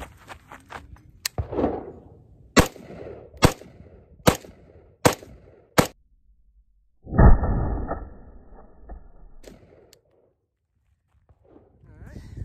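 Sharp gunshots from a rifle fitted with a JMAC RRD-360 muzzle device on a 12.5-inch barrel: about eight loud, evenly spaced reports in a quick string, then a longer blast with a ringing tail before quiet.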